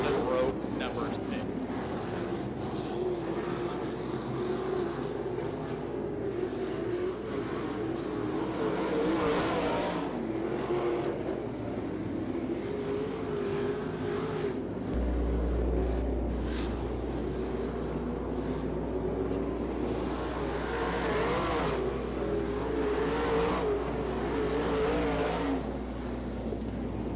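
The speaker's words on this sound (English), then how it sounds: "get loud for our 305 Sprint Cars as they come in front of you one more time at the start-finish line" 305 sprint cars run at Jacksonville Speedway, their engines droning and swelling as the field passes, while an announcer talks over the loud, continuous track noise.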